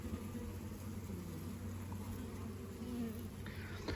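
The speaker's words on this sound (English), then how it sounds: "So still a few bees left in here." Honey bees left inside a hive box in a beeyard make a steady, low droning buzz that runs throughout, fairly close, with faint background noise and no clear talk.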